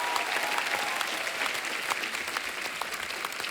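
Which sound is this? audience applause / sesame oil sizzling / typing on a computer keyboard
audience applause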